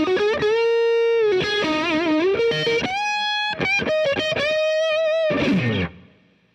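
Overdriven electric guitar on its neck pickup, played through a Boss DS-1 pedal with a Monte Allums Tri Roxx Plus mod, plays a smooth, sustained melodic line with a warm, rounded tone, ending on a noisy strummed burst that fades out.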